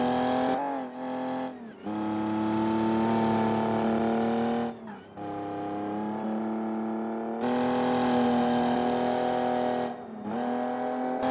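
A rally car from Rally Grand Tour runs a race stage, its engine roaring steadily with rising and falling revs through gear changes, a few brief lifts off the throttle between long loud pulls, close and without talk.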